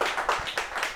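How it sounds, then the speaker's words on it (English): A small live audience at a Helsinki smart-city info session gives a brief round of applause, a few sparse, close hand claps in an uneven rhythm, with no talking. "And we have a round of applause here live"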